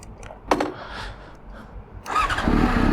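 A small motorcycle engine cranks with a sharp burst, sputters briefly, then catches and rises into a steady, loud running roar close by.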